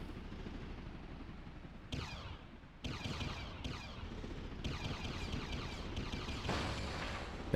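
A series of booming explosions in the PS2 video game Beyond Good and Evil bursts one after another, each sudden crack followed by a rolling, crackling decay over a low rumble.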